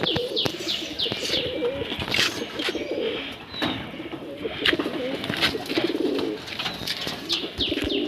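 Several Giribaz pigeons coo continuously nearby, their low burbling calls overlapping, mixed with sharp chirps and scattered clicks from a busy loft.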